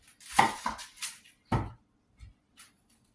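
A big onion is sliced into thick rings on a cutting board with a few sharp knife chops, some with a thud, separated by pauses and ending in lighter taps.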